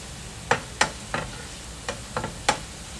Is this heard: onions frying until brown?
yes